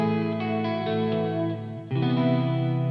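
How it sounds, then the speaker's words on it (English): Electric guitar played through a Fender Tone Master Pro amp modeller on a pushed, lightly overdriven clean tone, sustained chords ringing with slight chorus-like shimmer and a brief dip before a fresh strum, with no talking. "pushed overdrive sort of clean tone here"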